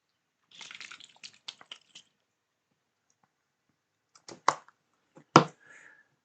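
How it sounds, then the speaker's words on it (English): A small bottle of model paint wash is shaken in quick bursts, a run of sharp liquid clicks and sloshes, a pause, then a few louder separate knocks and splashes, close and alone. "Bit of ASMR bottle shaking."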